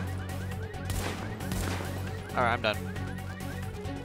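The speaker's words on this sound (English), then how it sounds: "Chicken." A chicken in The Division gives a couple of short clucks near the middle, brief and fairly clear over steady game background noise, with someone speaking around it.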